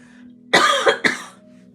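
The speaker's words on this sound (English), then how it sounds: "I keep on having this little bit of cough here." Two sharp coughs in close succession, near and fairly loud, followed by a brief raspy trail in an otherwise quiet room.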